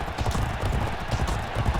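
Galloping horse hooves in the racing video game G1 Jockey 4, a fast, steady, rhythmic drumming of hoofbeats, loud and continuous throughout under a wash of crowd or track noise.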